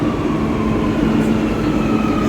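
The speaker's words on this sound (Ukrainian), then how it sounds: "Таке швидке, просторе метро в Барселоні." A Barcelona metro train rides along with a steady, loud rumble and roar inside the carriage, a continuous hum with faint tonal whine and no talk.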